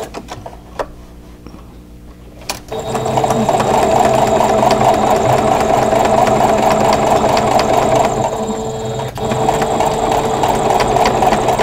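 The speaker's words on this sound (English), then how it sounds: "I'm going to just sew all the way up" Sewing machine running a continuous stitching seam on a crochet hook wrap, starting after a couple of quiet seconds with a steady, close, mechanical whir and rapid needle clatter, with a brief dip near the end.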